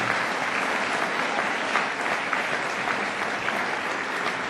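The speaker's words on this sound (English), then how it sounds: "I think a nice round of applause for him would be in order." A hall audience gives a sustained round of applause at a Carnegie Medal presentation, even and continuous clapping from many hands throughout.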